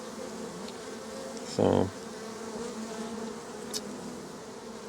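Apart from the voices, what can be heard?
honeybees buzzing in an opened hive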